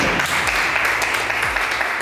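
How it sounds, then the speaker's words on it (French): A crowd at an international women's conference claps for a stand's team, a dense continuous patter of hands running evenly throughout, loud and close, over a low background hum. "Applaudissez également s'il vous plaît."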